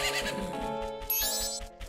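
A horse neighs in The Legend of Zelda: Majora's Mask, a short whinnying cry set over game music with a steady rhythmic beat.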